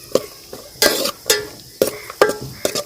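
Cashews frying in hot ghee in a pan for semiya kesari, heard as sharp sizzling bursts and stirring scrapes that come in irregular pulses with quiet gaps, close and without talk.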